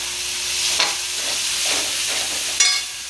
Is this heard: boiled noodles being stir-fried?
yes